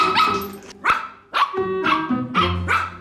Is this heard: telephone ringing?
no